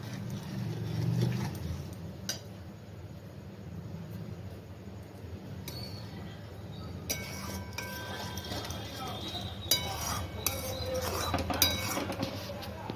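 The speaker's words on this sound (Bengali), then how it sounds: "দুধে আমি চিনি দিয়ে এবারে এটি নাড়ব।" A spoon stirs milk sweetened with sugar in a cooking pot while making kalakand, giving sporadic metallic clinks and scrapes against the pot over a low steady background hum.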